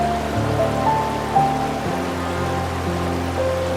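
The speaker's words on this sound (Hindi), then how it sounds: "फिर उस वाटरफॉल से बनती ये नदी भी आप सामने से देख सकते हैं" Steady rushing water of a river fed by a waterfall at Kolukkumalai near Munnar, Kerala, a continuous broadband flow with no voices.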